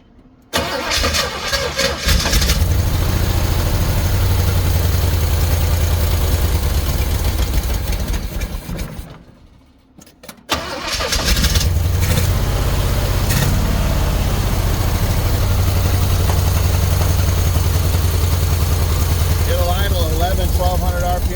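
A pink Jeep engine cranks and catches, then runs loud and close with an uneven, stumbling misfire, briefly dying away before restarting and running rough again; a voice talks over part of it.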